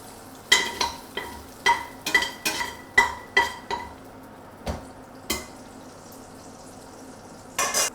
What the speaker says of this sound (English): I'm going to use a slotted spoon to bring out the bacon, the lardons